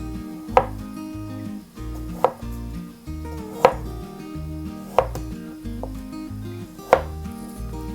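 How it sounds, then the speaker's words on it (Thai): A knife dices boiled taro on a board five times at an uneven, unhurried pace, each cut a crisp knock over soft background music. "หั่นเผือกที่ต้มสุกแล้วเป็นลูกเต๋านะคะ"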